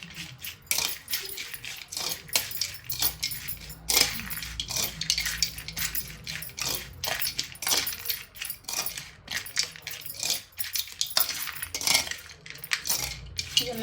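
Onion, tomato and coriander salad is stirred in a bowl, with close, irregular clinks and scrapes of a utensil against the dish repeating throughout.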